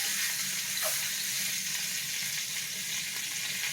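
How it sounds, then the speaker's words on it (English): Chicken sizzles and crackles steadily in a hot pan, a constant bright hiss with a few small pops. "Look at that chicken sizzle."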